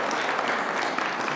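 Brief burst of audience clapping during a talk on selling a company to Amazon, a short, dense patter of hands lasting just over a second.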